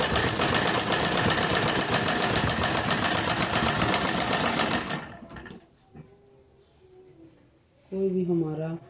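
A sewing machine stitches palazzo fabric with a fast, even, rhythmic whir that runs loud and close for about five seconds, then stops; someone talks briefly afterward.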